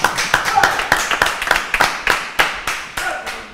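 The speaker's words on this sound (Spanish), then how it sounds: "Quiero que recibamos, por favor, con un fuerte aplauso, muy merecido, al seleccionado argentino de dodgeball" Studio audience on a comedy show applauds the Argentine dodgeball team with loud, evenly spaced rhythmic claps, about a dozen sharp beats in unison.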